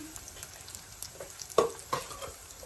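Soaked chickpea sundal with banana flower and drumstick leaves drops into a hot clay pot and fries, giving a faint, soft sizzle with scattered close clatters and stirring scrapes.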